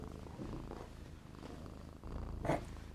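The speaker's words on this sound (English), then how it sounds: "I'm going to put my microphone on her purring." A pet cat purrs close to a microphone, a quiet, rumbling rhythmic purr in soft pulses, with a brief louder rustle near the end.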